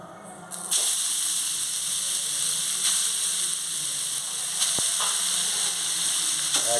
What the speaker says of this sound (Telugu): టూ టేబుల్ స్పూన్ నెయ్యి తీసుకుని దీంట్లో ఇప్పుడు మనం రెడీగా తురుము పెట్టుకున్న గుమ్మడికాయ తురుముని దీంట్లో యాడ్ చేద్దామండి